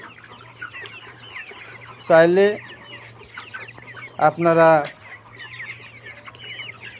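Layer pullet hens on a farm give two loud, drawn-out clucking calls close by over a low background hum, with faint scattered clucks and brief speech around them.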